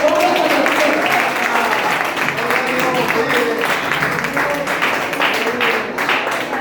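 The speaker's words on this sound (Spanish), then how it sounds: "Dale un aplauso al Señor" A church congregation at an evangelical service claps steadily, a dense wash of applause filling the whole stretch, with voices and cheers mixed in beneath.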